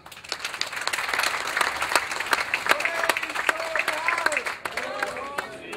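An audience at a bill-signing event with the governor breaks into sustained applause, dense clapping filling the room throughout, with a few voices and tonal sounds rising near the end.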